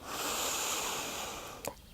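A person draws one long, deep, airy breath through the nose during a guided breathing exercise, a steady close rush of air that ends in a short sniff.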